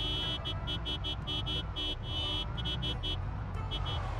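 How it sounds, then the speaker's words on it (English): A car horn honks repeatedly in the zombie survival game Project Zomboid, a series of short, loud pulsed blasts in quick rhythm over a steady engine rumble. "one thing I will do is honk anyway, so I can kind of get them congregated in one spot"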